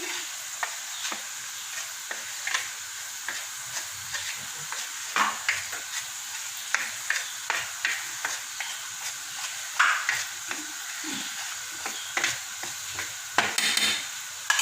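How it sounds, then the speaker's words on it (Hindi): Black pepper, cumin powder and salt are being mixed into plain flour for a chicken drumstick coating, with close, quick, rhythmic scraping and tapping strokes repeating steadily. Nobody speaks. "ये हम मैदे में ऐड करेंगे और इसको अच्छे से मिक्स कर लेंगे"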